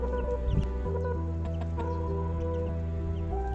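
Young chicks let out soft clucks and peeps in a farmyard, close and fairly steady over a constant low hum, with a slightly louder burst early on.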